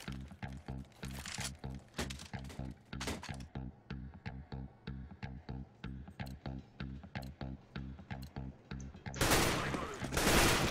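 Gunfire in Counter-Strike: Global Offensive, a long run of sharp, evenly spaced shots cracking out in a steady rhythm, then a louder, noisier burst of firing near the end.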